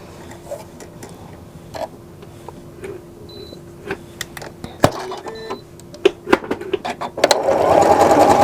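A sewing machine stitches a row of small decorative heart shapes, giving short mechanical whirs and clicks in a stop-and-go rhythm, close up, that build into a louder continuous run at the end.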